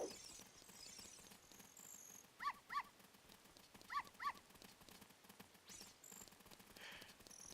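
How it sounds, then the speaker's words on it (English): Dog in The Legend of Zelda: Ocarina of Time video game, with four short barks in two quick pairs over steady game music and ambience. "It's this dog."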